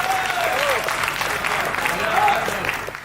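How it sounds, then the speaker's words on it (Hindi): An audience at a speech breaks into sustained, dense applause that stays loud and continuous, with a voice carrying over the clapping. "एक टिप्पणी पर आपकी तालियां उठें"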